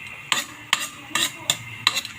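Spoon stirring pork adobo in a pan on a home stovetop, five scraping clatters spaced roughly half a second apart over a faint simmer.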